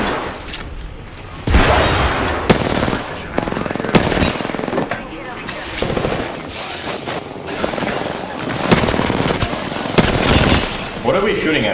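Rapid bursts of automatic gunfire and weapon reports in the battle royale shooter Apex Legends, loud and dense, under excited team voice chat throughout.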